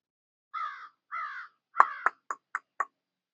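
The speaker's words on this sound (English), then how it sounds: "Crow flying over." A crow caws while flying over a shed deck in northern Nova Scotia: two longer harsh caws followed by four quicker, clipped ones in a rhythmic run, clear against a quiet background.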